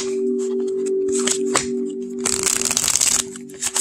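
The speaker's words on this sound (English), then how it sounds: "Now we're going to shuffle." Crisp papery riffling of linen tarot cards being shuffled, short bursts then a longer fuller shuffle, close by, with a steady background hum and no talking.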